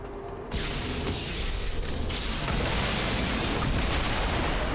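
A sudden loud video game explosion in XCOM 2 gives way to a sustained roaring, crackling rumble that fills the space without letup.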